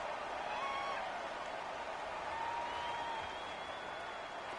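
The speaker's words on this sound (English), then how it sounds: "The crowd getting into it as we come up on a big third down" Stadium crowd noise from a Madden 19 football game, a steady roar of cheering and applause building ahead of a big third down, continuous and broad throughout with no pauses.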